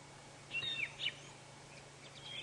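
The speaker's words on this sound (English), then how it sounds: "this fork-tailed drongo is mobbing this Wahlberg's eagle" Fork-tailed drongos give a few thin, high, metallic calls while mobbing a Wahlberg's eagle on a sunrise safari drive. The calls are faint and distant over steady background hiss, with no voices.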